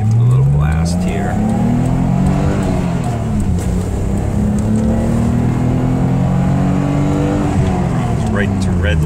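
A 1986 BMW 635CSI with a five-speed manual, running on 17-inch Racing Dynamics wheels, accelerates hard on a highway, its engine note climbing loudly through the revs from inside the car. A voice talks over it.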